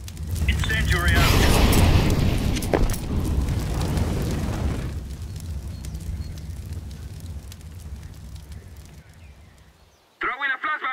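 An incendiary grenade in Counter-Strike bursts into a loud roaring whoosh of flame over the first few seconds, then settles into a steady crackling burn that slowly fades, with a short sharp burst of other game noise at the very end.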